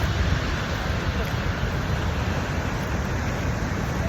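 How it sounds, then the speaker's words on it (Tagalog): Manitou Falls pouring hard after rain, a steady loud broadband roar of falling water that fills the whole clip without letup, close and constant. "Siguro galing lang sa ulan kaya malakas yung bagsak ng tubig."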